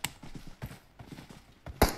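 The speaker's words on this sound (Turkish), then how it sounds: "Ayak sesi var burada." Footsteps of a player character in a first-person PUBG Mobile ranked match: a quick run of soft, muffled thumps with a sharper, louder step near the end, heard without talk.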